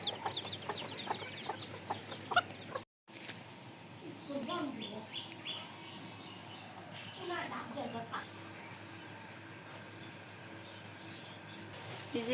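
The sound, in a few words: chickens clucking after being let out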